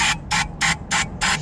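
Starting fluid hisses into a small engine in five quick, even, close spray bursts with short pauses between them, over a low background hum.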